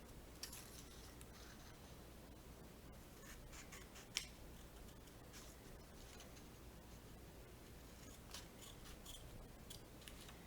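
Scissors snip paper while strips are cut for a paper hyacinth craft. The cuts are soft and steady, a faint run of crisp shearing over a quiet background hiss, with no voice.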